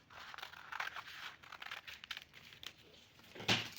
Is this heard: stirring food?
no